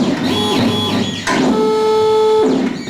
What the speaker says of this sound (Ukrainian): Цифрове лекало Дмитро Ковальчук роздруковує на принтері